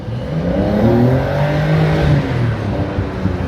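A 992-generation Porsche 911 GTS Cabriolet drives past with a smooth, rising engine note and tire hum, fairly close and steady throughout.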